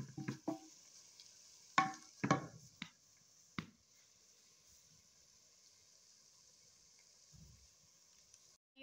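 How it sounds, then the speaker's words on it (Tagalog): Dried lentils, fenugreek, cumin and coriander seeds sauté in a pan: a few clattering stirs and scrapes come first, then a steady, faint high sizzle runs on alone. "we can put now also this dried lentils, fenugreek seeds, cumin seeds, and coriander seeds para gisa-gisa konti"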